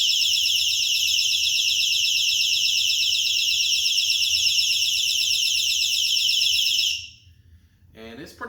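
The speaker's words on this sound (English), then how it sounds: "you hold the alarm button in" NEBO MyPal 115 dB personal safety alarm blaring a loud, continuous warbling shriek for about seven seconds before cutting off, followed by a brief voice.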